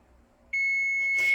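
An oven timer suddenly starts ringing, a steady high electronic tone that holds on loud and near after a quiet moment.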